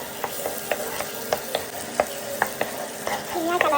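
Raw peas tumble into a frying onion, tomato, ginger and garlic paste, giving a steady soft sizzle broken by repeated sharp stirring clicks and scrapes at a close, moderate level, with no talk.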